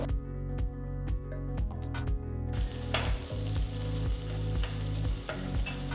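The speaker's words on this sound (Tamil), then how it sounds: "மெலிசா நறுக்குன ஒரு வெங்காயம் சேர்த்து வதக்குங்க" Steady sizzling of sliced onion and green capsicum frying in a hot pan, with occasional stirring clatter; the hiss grows louder and denser partway through.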